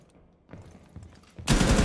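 Gunfire in the video game Rainbow Six Siege: a few muffled shots, then a sudden loud, sustained burst of close automatic fire.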